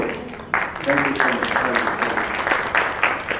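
Audience applause at a seminar in Mumbai: a burst of clapping that starts abruptly and continues steadily, with a voice talking over it near the start.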